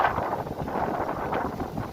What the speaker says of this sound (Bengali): প্রচুর বাতাস, বাতাস অনেক, প্রচুর বাতাস।